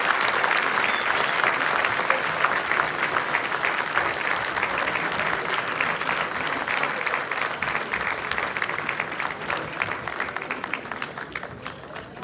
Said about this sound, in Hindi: तो एक बार जोरदार तालियों से उनका स्वागत कीजिए